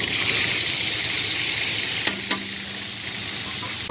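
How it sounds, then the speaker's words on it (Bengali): Tomatoes and spice paste sizzle loudly in hot oil in a pan, a steady bright hiss throughout with a couple of brief stirring scrapes and a short low tone near the middle. "আর এই গরম তেলে দুটো টমেটো ছেড়ে দেবো।"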